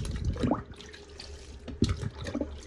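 Water poured by hand onto the drum of a Costway portable washer, a few brief splashing bursts close by over a steady low background, alone without talk.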